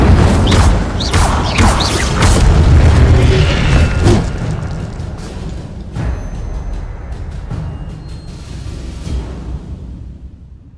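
Incendio fire spell cast in Hogwarts Legacy, a Harry Potter video game: a loud, sustained stretch of booming, crackling magical bursts with several sharp hits, fading gradually toward the end.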